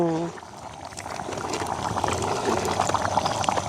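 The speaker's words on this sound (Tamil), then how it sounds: "இப்படி கொதிக்குதுன்னு நல்ல அப்படி அந்த திக்கான குழம்பு" Thick egg curry bubbling and popping steadily in a pot, with soft gurgles building over a few seconds after a brief clatter at the start.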